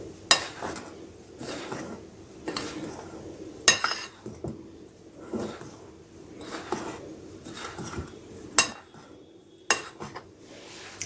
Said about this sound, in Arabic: هقلب بقى الخليط ده كله كده ببعضه.